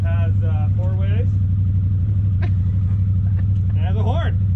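A 2019 CFMOTO ZForce 800 Trail side-by-side idling nearby, a steady even low engine hum, with people chatting over it.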